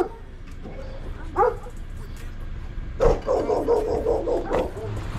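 A dog confronted by a delivery customer wielding a broom barks and yips in short bursts, with a louder run of rapid barks later, close by and mixed with people talking.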